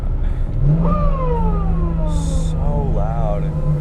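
A twincharged Toyota 1JZ engine in a Soarer revs in rising and falling sweeps over a steady deep drone, loud and close from inside the car, with a brief whoosh near the end.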